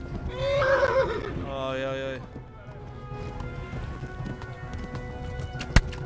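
A horse in Kingdom Come: Deliverance whinnies loudly up close, followed by running hoofbeats, with a voice exclaiming over the noise and a sharp impact near the end.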